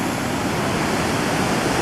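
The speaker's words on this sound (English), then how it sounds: "This is the outflow of Sunwapta Falls." Rushing water at the outflow of Sunwapta Falls in Jasper National Park, where the river runs through a narrow rock chasm: a loud, continuous roar with no pauses.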